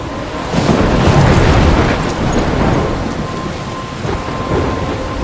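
A thunderstorm in the video game Life is Strange: a heavy, rolling thunder rumble over steady pouring rain, swelling near the start and then easing into a continuous downpour.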